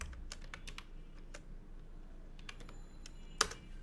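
Fingers tap out numbers on a computer keyboard while a C program runs: soft, close key clicks in irregular bursts, ending with a sharper keystroke, quiet with no voices.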